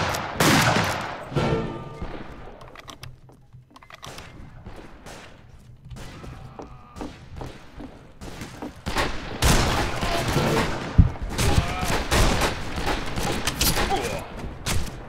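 Shotgun fire crackles in the Western shooter game Fistful of Frags, sharp bursts clustered early and late in the clip around a quieter stretch, with a brief voice between shots.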